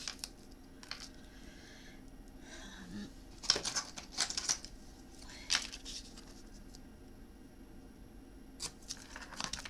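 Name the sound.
tape being applied across paper folds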